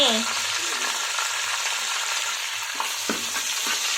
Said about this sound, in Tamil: பிரியாணிக்கு பயங்கர ஃப்ளேவர் கொடுக்குறதே இந்த புதினா தான் அதையும் நம்ம இது கூட சேர்த்து ஆட் பண்ணிக்கலாம் கிண்டவானே